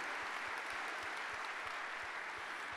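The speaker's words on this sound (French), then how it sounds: "On peut l'applaudir" Audience applause at a plenary session of a 2023 congress on social centres, steady dense clapping filling the whole stretch at moderate loudness with no talk over it.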